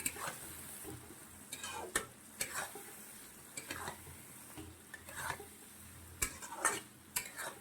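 Soybean being sautéed with spice masala in a pan, quiet scattered scrapes and taps of a spoon against the pan over a low sizzle, irregular and soft throughout with no voice.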